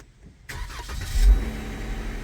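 A car engine cranks and catches about half a second in, briefly revving before settling into a steady close idle, with no talking.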